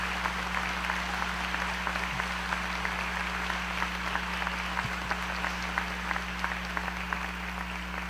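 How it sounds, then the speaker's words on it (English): A crowd at a jersey retirement and back-to-school event applauds in a steady, even wash of clapping that holds for several seconds over a constant low hum, with no talking. "So if we take just a round of applause for Bob and Fabby"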